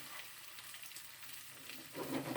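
Chicken frying in a pan with ginger and garlic, a steady low sizzle throughout that swells louder near the end as the pieces are stirred or shifted.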